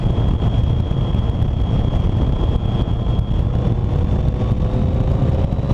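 Yamaha XJ 650 Turbo motorcycle engine pulling in fourth gear at about 3,500 RPM while climbing a hill, a steady, loud broadband roar with a faint high whine and heavy wind rush throughout, no voices.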